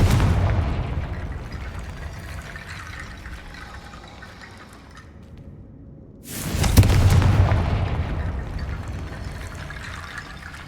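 In Hogwarts Legacy a Confringo fire spell bursts suddenly and loudly after a quieter rumbling stretch, then leaves a sustained roar that slowly fades.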